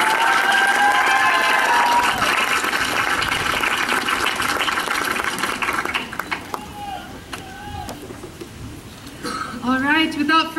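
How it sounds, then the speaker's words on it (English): Audience applause for a children's chorus's choir conductors, a dense wash of clapping and crowd noise for about six seconds that thins out as a voice begins speaking over the tail. "A big round of applause for all of our individual conductors"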